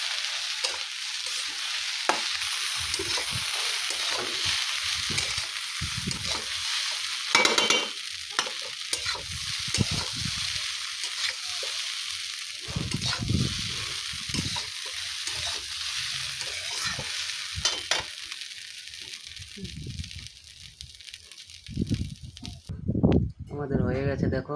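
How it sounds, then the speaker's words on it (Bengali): Pasta is stirred in a hot pan, the spatula scraping and rustling over a steady sizzle that continues for about twenty seconds. A voice talks at intervals over it. "পাস্তা দিয়ে একটু নেড়ে চেড়ে নেবো"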